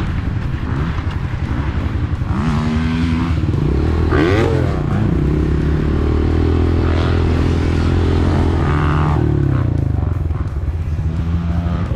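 Dirt bike descending a steep hill with rear and front brakes applied: a loud, continuous engine drone close by, with shifting pitch, occasional revs and scrapes and clatter from the terrain throughout.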